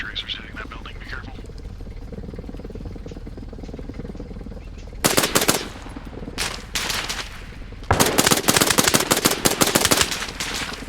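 Bursts of automatic gunfire in the video game Arma Reforger, with green tracers striking a building during a winter military-simulation operation: loud, rapid volleys starting midway, pausing briefly, then returning heavier, with radio-style team chatter around them.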